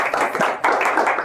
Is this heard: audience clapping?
yes